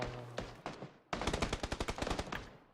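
Automatic gunfire in the PUBG video game: a few separate shots, then a rapid rattling burst of roughly a dozen close, loud rounds, tailing off quickly, with no talk over it.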